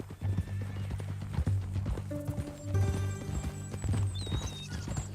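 Horse hooves clip-clop at a steady walk in Red Dead Redemption 2, with a horse whinnying and snorting partway through, close by and moderately loud.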